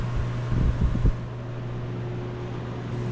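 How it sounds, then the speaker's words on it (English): An electric fan runs steadily to dry paint on a small welded birdhouse, a constant whirring hum with a low tonal drone, joined briefly by a few soft knocks early on. "So we got our fan on it"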